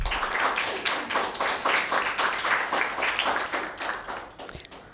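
Schoolgirls at a Bible quiz clap together in a dense, steady round of applause, loud and close, with a rhythmic pulse running through it for several seconds.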